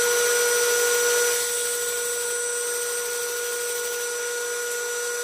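A metal lathe turning 2-inch stock down to 40 mm for a mini excavator pin gives a steady, continuous high-pitched whine with ringing tones, easing slightly after the first second and holding even throughout.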